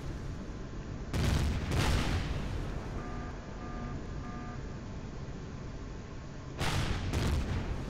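Missile launches in the space game Empyrion, a pair of loud blasts near the start and another pair near the end, with a steady rumbling hum and faint repeating tones in between.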